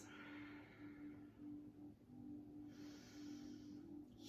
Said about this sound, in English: Hear the calm Ujjayi breathing.